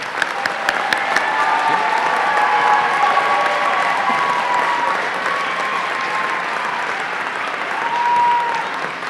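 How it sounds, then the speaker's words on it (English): Steady audience applause fills a police promotion ceremony for the NYPD, a large crowd clapping continuously and fairly loud, with faint cheering and a few sharper claps near the start. "a round of applause for all our promotees here today"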